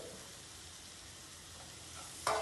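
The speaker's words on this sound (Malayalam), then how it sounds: "ഇതിലേക്ക് ഇനി വെജിറ്റബിൾസ് ഇടുക" Mixed vegetables for a curry hit spiced hot oil and sizzle with a faint, even crackle, then a sharper burst of clatter near the end as they are stirred in the pan.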